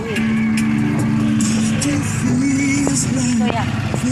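A tricycle's motor runs with a steady, close engine drone and shifting revs, while people talk over it and a cow-like call sounds in the background.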